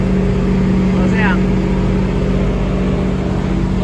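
A car engine runs in fourth gear while descending a steep mountain road with the engine brake off, a steady loud drone with a constant hum beneath someone talking over it.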